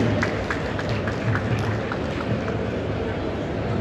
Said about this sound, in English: I think a round of applause will do